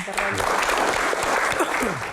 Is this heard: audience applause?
yes